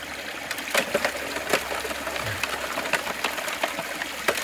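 Shallow little stream running through a gold-prospecting sluice box outdoors, a soft continuous trickle and burble with occasional small splashes and knocks, fairly quiet and close.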